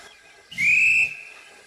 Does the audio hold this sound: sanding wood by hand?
no